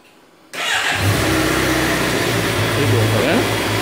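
A Suzuki GSXR750 SRAD motorcycle fires up after a moment of quiet and settles straight into a loud, steady idle with a slight rise in revs, the engine running close by and alone.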